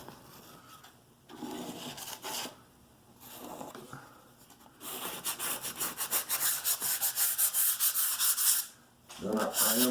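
Grout being rubbed and scraped across the surface of a DIY concrete countertop, with steady close scraping strokes that turn into a dense run of rhythmic scratching toward the end.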